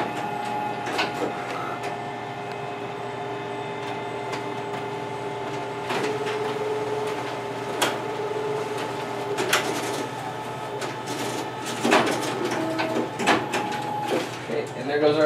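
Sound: Xerox WorkCentre 7435 copier printing, stapling and hole punching

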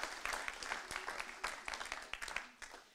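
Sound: applause

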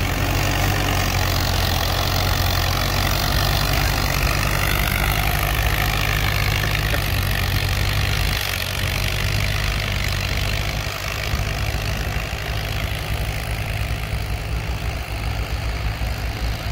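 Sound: old D14 tractor engine running while plowing

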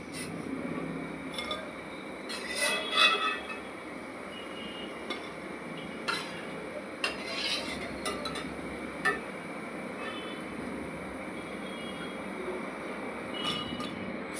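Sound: fried bhaji being taken out of the pan

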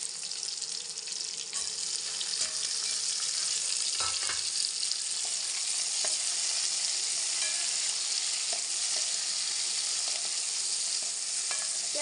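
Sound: tomatoes added to sizzling browned onions

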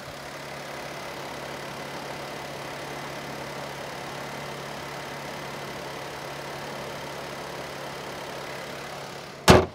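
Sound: car engine idling with AC on

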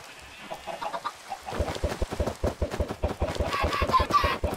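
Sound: chickens clucking in the video game Minecraft

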